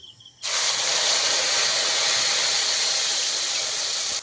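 A sudden loud hiss bursts up as a prepared spice paste hits hot oil tempered with bay leaves and nigella seeds for a vegetarian potato-soybean curry, holding as a steady close sizzle for about four seconds before cutting off.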